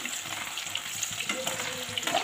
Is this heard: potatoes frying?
yes